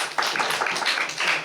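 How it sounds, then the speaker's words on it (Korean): Church youth group congregation clapping together in a room, a steady dense patter of many hands at moderate loudness, no voices over it. "우리 박수 한번 쳐주세요."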